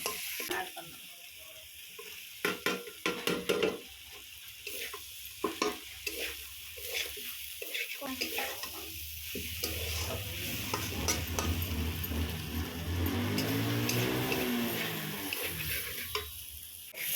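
Lentil dumplings (bori) are stirred through spiced masala frying in oil for an onion- and garlic-free soybean curry, giving a continuous close sizzle with repeated spoon scrapes and clanks against the pan.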